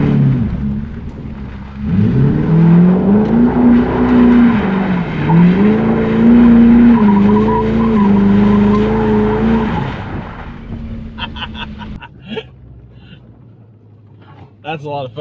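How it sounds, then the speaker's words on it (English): A Ford Police Interceptor spins a donut, its tires squealing and skidding in a loud, sustained wail over the engine for several seconds before cutting off, followed by scattered rustles. "Let's see if we can do a little donut here."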